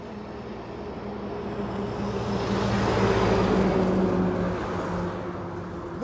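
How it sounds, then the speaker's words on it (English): A heavy vehicle carrying timber rumbles past nearby, its engine noise swelling to a peak and then fading as it moves away. "there is a car passing with timber"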